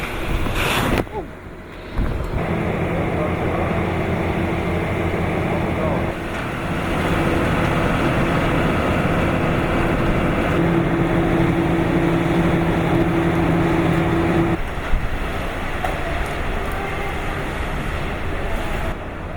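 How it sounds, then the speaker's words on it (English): Typhoon Haiyan's strong winds in Tacloban roar and buffet the microphone continuously, with gusts rising and falling and a low rumble underneath. "the winds are really starting to pick up now, and it feels like there is a typhoon"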